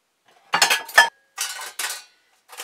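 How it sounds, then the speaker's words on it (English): Metal pots and a sauté pan in a small RV kitchen clank and scrape in four or five short bursts, close and fairly loud, separated by brief silences. "I've got my 1 saute pan."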